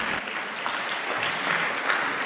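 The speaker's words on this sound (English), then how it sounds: "Round of applause for Karen," Steady applause from an audience at a Kenyan national youth forum on corruption, a dense even patter of many hands sustained throughout without pause.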